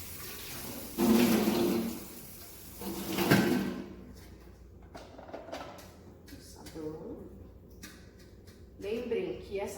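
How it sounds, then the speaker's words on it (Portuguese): Water runs over a tray with soap during preparation of materials for a gastric tube procedure, heard in bursts of splashing and clattering with someone talking between them. "Vocês vão colocar água sobre a bandeja e o sabão."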